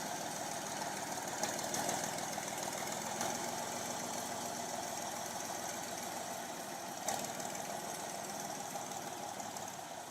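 A logging tractor drives hard through a muddy section of forest road, its engine running as a continuous loud rumbling drone with a knocking pulse and a couple of brief surges.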